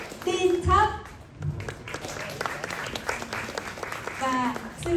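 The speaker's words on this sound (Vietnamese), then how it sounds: "Và xin một tràng pháo tay nồng nhiệt nữa cho 25 thí sinh." Applause from the audience at a press conference for a Vietnamese song contest, crackling clapping running underneath a host's amplified voice, rising around the speech and then continuing faintly behind it.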